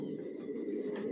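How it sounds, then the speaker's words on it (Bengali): A top-quality racing pigeon kept as a breeder coos in a low, continuous, throaty drone, close and steady throughout with no talking. "টপ কোয়ালিটির কবুতর পালি"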